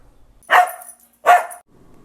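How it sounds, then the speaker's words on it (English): Queen, the family dog, gives two sharp, clear barks, evenly spaced and fairly close, with quiet in between. "this is our dog Queen"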